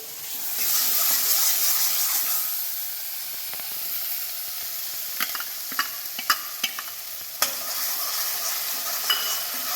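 Cashew paste and spices cooking in a pan, a soft steady sizzle with intermittent sharp scrapes and taps of a spoon stirring, close and moderately quiet.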